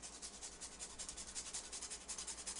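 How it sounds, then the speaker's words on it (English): Whole nutmeg seed rubbed against a small kitchen grater, a faint, steady run of soft rasping strokes in a quick even rhythm, close by and without any talking. "I just take a little grater like this"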